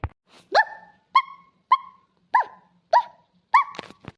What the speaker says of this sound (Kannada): ನಾಯಿ ಯಾವುದೋ ಬೊಗಳುತ್ತೆ